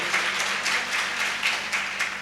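An audience applauds two honored gurus at a gathering, a steady dense wash of clapping from many hands with small swells, continuous across the short stretch.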